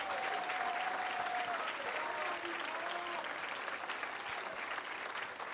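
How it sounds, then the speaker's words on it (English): Steady, sustained audience applause filling the room after personal stories are shared, dense and even throughout, with a faint voice briefly audible over it near the start. "can we give them one more round of applause?"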